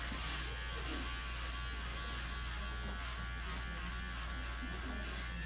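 Electric hair clippers buzz steadily and continuously during a haircut, a close, constant whine with no breaks, and no talking over it.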